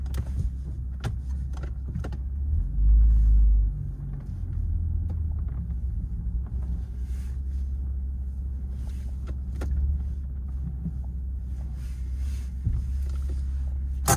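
A BMW M140i with a 3.0-litre 340 hp engine on a test drive, a steady low engine rumble from inside the car with a brief louder surge early on, otherwise a smooth continuous drone with no talking.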